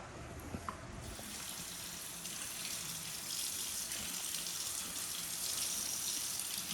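Warm water pours steadily from a tap, a continuous broadband gush that builds slightly in volume as it runs, close and fairly loud with no speech over it.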